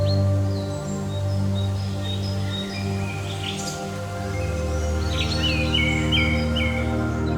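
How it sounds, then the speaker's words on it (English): Rare birds sing in a tranquil mountain forest on Mount Huangshan, with several high chirps and short whistled phrases scattered over a steady low hum of background ambience. "rare birds singing through the tranquil air"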